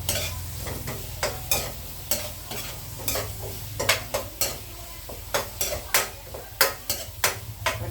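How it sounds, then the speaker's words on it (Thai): Spices and garlic stir-fried in a pan for Thai pork-leg palo, a steady low sizzle running throughout with repeated sharp scrapes and clinks of a utensil stirring against the pan, close and moderately loud with no talking. "แล้วเราก็เจียวไปพร้อมกระเทียมนี่แหละให้อมหอม"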